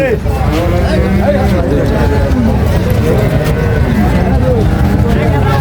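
Several cows, pregnant Friesian cows at the Sonaichandi cattle market, moo loudly and repeatedly, overlapping one another amid a busy crowd with people talking and traffic rumbling behind.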